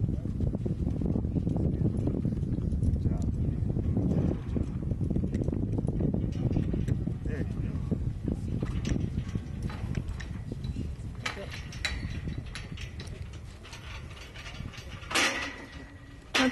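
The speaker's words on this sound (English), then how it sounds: "He's a really smooth horse." A smooth-gaited horse walks along with hooves clip-clopping in a steady, fairly close rhythm, while low voices murmur faintly in the background.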